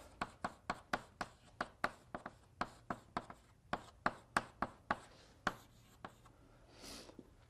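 Chalk or marker strokes on a board in an MIT lecture hall, a quick run of about two dozen sharp taps and scrapes in an uneven rhythm, close and fairly loud, with a soft rub near the end and no talking.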